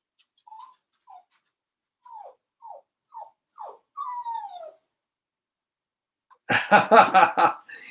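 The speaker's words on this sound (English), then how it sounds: "Oh, that dog. I love her to death, but sometimes she whines so much." A pet dog named Itty Bitty gives a string of short, high whimpers and whines at a steady, uneven rhythm. Each cry is brief and the last one is drawn out, then a voice talks over the end.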